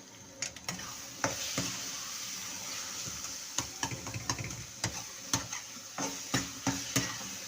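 Gawar beans stirred and mixed in a pan with salt and spices, a spoon scraping and clacking in a series of distinct knocks over a soft background hiss, growing more regular toward the end.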